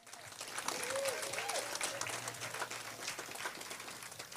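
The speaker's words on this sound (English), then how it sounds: "Once again, a round of applause for Command Sergeant Major Charles David." Applause from a Veterans Day audience honoring a command sergeant major, a steady wash of clapping filling the room for a few seconds with a low hum underneath and some voices mixed in.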